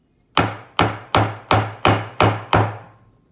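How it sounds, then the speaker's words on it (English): A hammer drives a nail into wood for farmhouse-style candle decor: seven loud, sharp, evenly spaced blows, each ringing briefly before the next, close up with no talking. "We're just nailing it in, and it works better with 2 hands."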